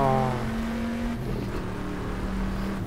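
A 1970s Corvette race car at Sebring revs nearby, a steady engine tone with a falling-then-rising harmonic pitch and a continuous rumbling drone throughout.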